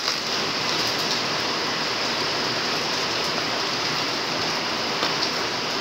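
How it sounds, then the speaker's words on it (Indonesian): Steady rain falls outdoors in a continuous, dense hiss with no pauses and no one speaking. "Di sini hujan, kondisinya lagi hujan."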